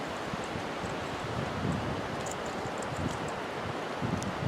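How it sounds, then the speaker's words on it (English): Wind blows outdoors around a camouflage tent among trees. It makes a steady, broad rushing noise with mild gusts and rustling throughout, and no one speaks. "You hear that wind?"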